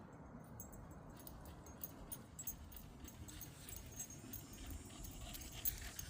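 A corgi pants quietly and rapidly close by, with faint jingling and light movement sounds over a low background rumble.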